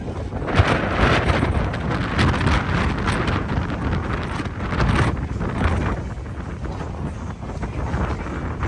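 Strong gusty wind roars over an open beach campsite, buffeting the microphone with a constant heavy rush and occasional louder blasts, with no talking.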